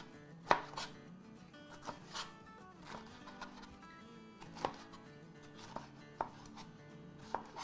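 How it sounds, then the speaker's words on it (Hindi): Green chillies being chopped with a knife on a cutting board for Sindhi biryani, a series of sharp, irregular knife strikes close by with quiet gaps between them, no voices. "हरी मिर्च काट ली"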